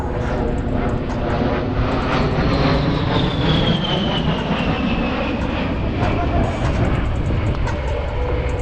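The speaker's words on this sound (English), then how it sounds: "now repositioning her aircraft from a level 360-degree high G turn" A-10 Thunderbolt II jet repositioning from a level 360-degree high-G turn at an air show, a loud steady engine roar with a slowly falling whine throughout.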